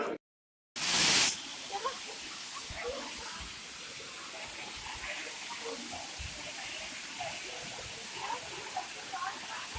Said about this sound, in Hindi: ये जो पानी के झरने हैं